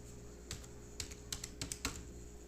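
Light typing on a computer keyboard, a few quick soft clicks and short clustered keystrokes, close and quiet against a faint background hum.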